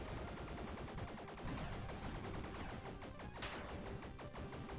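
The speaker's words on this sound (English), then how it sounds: "He's shooting rocks or something." A boss firing rocks in the pixel-art action game Bleed: a continuous barrage of crashing, gunfire-like impacts and projectile bursts layered over game music, steady and busy from start to finish.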